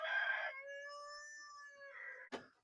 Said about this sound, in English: Roosters crow continuously, day, night, mornings.